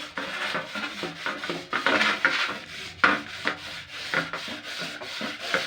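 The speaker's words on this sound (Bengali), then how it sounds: "তো আমি এরকম করে ঘষে ঘষে কিন্তু এ করে নেবো" An old brass plate being scrubbed clean with powder gives off steady, rhythmic rasping strokes, close and fairly loud, with no voices.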